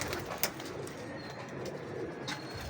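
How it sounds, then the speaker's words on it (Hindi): Pigeons caught in a net give faint, scattered coos and soft stirrings, with a couple of slightly sharper sounds over a quiet background. "सब कबूतर दोस्तों ये देखें सामने ही है"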